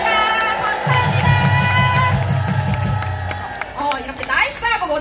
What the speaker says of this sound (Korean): 우리 여기 수고하시는 경찰분들 위해서 박수 한번 하겠습니다